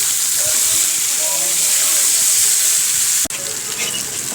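Onions frying in oil make a loud, dense hiss that holds steady from start to finish, with one brief sharp knock near the end.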